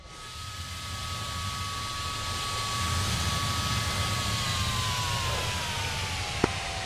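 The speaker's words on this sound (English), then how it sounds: "Oh, this jet still sounds weird." An F-86 jet engine in a flight simulator game gives a steady, loud, broadband roar with a thin sustained whine that sags slightly in pitch near the end. A single sharp click cuts through it late on.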